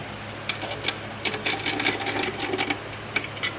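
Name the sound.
loosening and removing TheraCycle motor mount bolts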